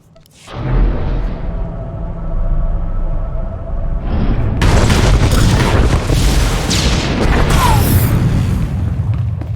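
Large explosion inside a data center in Star Wars: The Old Republic, a sudden loud boom followed by a sustained roaring rumble with crackling debris and a second burst of blast noise that keeps going to the end.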